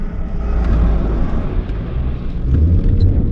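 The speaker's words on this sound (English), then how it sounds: "Oh, wheel spin." A Volvo S40 engine revs hard with tyres spinning, a loud, sustained roar of acceleration that swells again toward the end.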